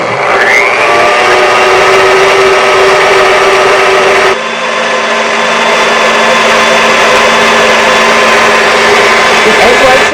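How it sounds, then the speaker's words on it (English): Electric stand mixer fitted with a whisk attachment beating egg whites toward a white, foamy stage for meringue, a loud steady motor whir with a constant high whine that runs unbroken the whole time, with one brief dip partway through. "I have my mixer fitted with a whisk attachment, and I'm just going to start these and let them go until they get white and foamy"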